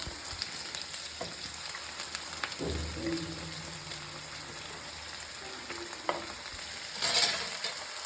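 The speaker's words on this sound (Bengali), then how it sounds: "সব ভেজিসগুলো একসাথে ভেজে নিব" Carrots and mixed vegetables fry together in a pan, a soft, steady sizzle with occasional scraping stirs and light clinks, fairly quiet and close, with no one speaking.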